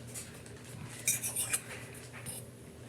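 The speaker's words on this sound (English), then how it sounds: "Now, in there, you gotta stir that up, though." A utensil stirs a pickle ball mixture with cream cheese in a bowl, giving a burst of light clinks and scrapes against the bowl, close and fairly soft, with no talking.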